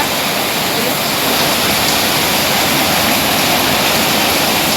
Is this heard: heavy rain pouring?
yes